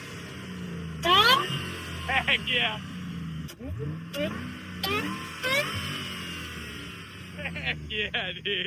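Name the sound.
Ford Mustang 4.6 3V engine revving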